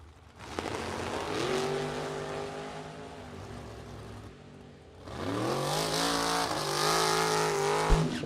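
Drag racing cars at the 47th U.S. Bracket Nationals, including a family-owned Nova, rev their engines and launch down the strip. Loud, rising engine howls climb in pitch, ease briefly, then surge again as the cars accelerate away.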